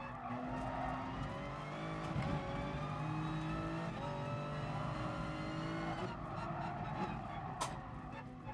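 A race car's engine in the GT Sport video game drones and shifts pitch steadily while its tyres skid and squeal on a mountain circuit, the sound continuous and fairly even throughout.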